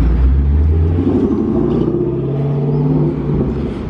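A Ferrari sports car in Monaco roars loudly past at close range, a deep engine rumble swelling and then easing off over a few seconds, alone without talk.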